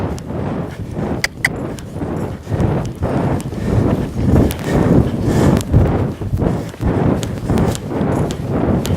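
A horse's hooves clip-clop in a steady walking rhythm, close and loud, with irregular scuffs and a few sharper knocks as the mare shifts and leans against another horse; no voices.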